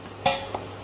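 Eggs fry in oil for egg chili, a soft sizzle under two quick utensil clinks against the pan, the first louder than the second.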